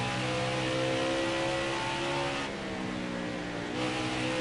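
A NASCAR race car in NASCAR Heat 4 at Atlanta accelerates with a loud, steady engine drone that climbs in pitch, dips briefly at a gear change and then rises again, with no one speaking.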